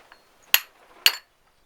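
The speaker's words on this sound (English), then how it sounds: "This knocks the seal out and knocks it in again." Two sharp metallic knocks about half a second apart as a copper hammer knocks a seal out of a Citroen 2CV driveshaft output hub up close, with a faint ring after each.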